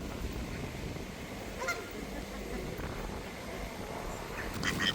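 Waterfowl at Windermere in the Lake District honking and calling while being fed, short nasal calls over a steady outdoor wash, growing busier toward the end.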